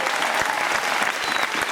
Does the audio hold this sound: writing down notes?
no